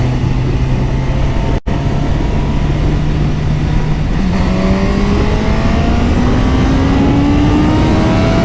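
Suzuki GSX-S 1000 GT motorcycle from 2022, with an engine that has GSX-R roots, pulling hard at high rpm. A loud, close, continuous engine drone climbs steadily in pitch as it revs, with one brief cut near the start.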